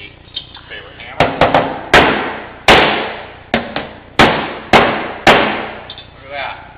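Sharp metallic hammer blows strike a dented car body panel in an irregular series, each ringing briefly, with some faint talk in between.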